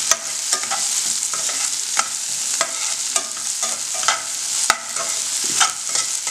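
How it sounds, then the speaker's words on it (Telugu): Onions fry in a pan for paneer pulao while a spatula stirs them, giving rhythmic scraping strokes over a constant close sizzle. "ఇది మన ఉల్లిపాయలు కొద్దిగా మనకి రంగు మారే వరకు మనం వేయించుకోవాలి."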